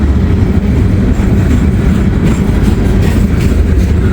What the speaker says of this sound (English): the old gondola train